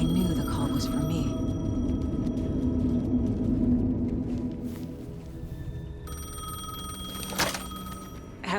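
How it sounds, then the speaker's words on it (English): A payphone rings in the video game Alan Wake 2, its bell-like tones repeating over a deep ambient rumble and eerie tonal score, with a voice speaking at times. "payphone was ringing"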